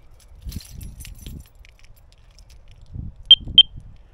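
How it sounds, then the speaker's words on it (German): Two short, high-pitched electronic beeps in quick succession, clear and close, following some faint handling noises, as a portable Abus alarm box is switched on. "jetzt hat man so ein Signal gehört. Jetzt ist die Alarmanlage aktiv."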